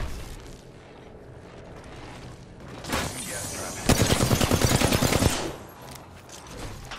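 Gunfire aimed at the player in a video game, a brief burst at about three seconds and then a loud rapid automatic volley of about a dozen rounds, quieter ambience around it.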